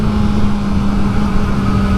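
A 2023 Kawasaki ZX-4RR motorcycle engine runs at full throttle in third gear with a steady, loud, droning hum that does not rise in pitch, heard close up with no talking.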